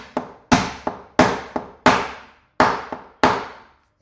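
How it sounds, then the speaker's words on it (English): A hammer taps the edge of a Nardi sun lounger under restoration into its groove in about nine sharp, close strikes. Each knock rings briefly, spaced irregularly with short quiet gaps between them. "So if I just touch that with a hammer,"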